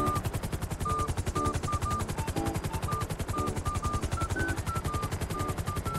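A helicopter in the GTA roleplay video game makes a steady, rapid rotor chop that thumps evenly for the whole stretch at a moderate level, with no voices over it.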